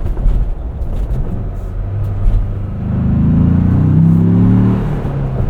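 A 2025 Ford Bronco Big Bend Sasquatch with a seven-speed manual accelerates on the road, its engine note rising into a strong, steady growl that builds over the second half and then eases slightly, with no talk.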